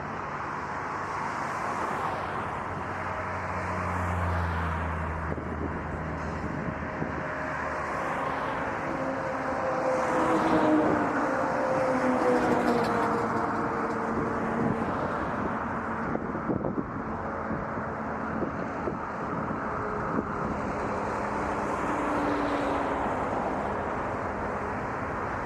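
Embraer airliner at Toronto Pearson airport, a steady jet engine roar heard from a distance with wind buffeting the microphone, swelling slightly midway as the plane passes.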